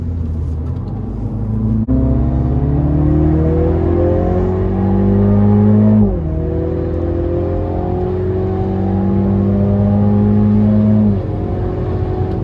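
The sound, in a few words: MINI GP3 car driving on Zolder circuit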